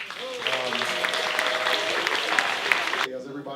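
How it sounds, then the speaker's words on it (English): An audience at a 2018 Martin Luther King celebration in Auburn, California, claps in a sustained round of applause beneath a speaking voice, and the sound cuts off abruptly near the end. "So give a round of applause for that right now."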